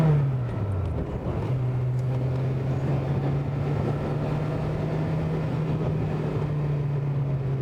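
A Renault 5 Gordini Turbo with an early Garrett T3 turbocharger drones steadily while driving, its engine note dipping briefly as if through a gear change, then holding an even pitch.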